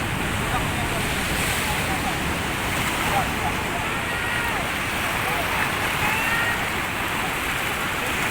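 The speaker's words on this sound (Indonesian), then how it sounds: "Hantaman ombak samudra Pelabuhan Ratu." Ocean surf pounding the shore at Pelabuhan Ratu, a steady, loud, continuous roar of crashing waves that fills the scene without pause.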